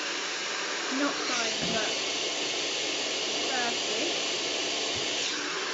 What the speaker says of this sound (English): So, hairdryer above, facing down the length of the hair, smoothing, turning.